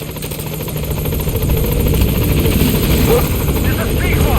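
A helicopter arrives at a landing zone in the video game Metal Gear Solid V: The Phantom Pain. Its dense, rapid rotor chop drones loudly and builds slightly in strength over the few seconds.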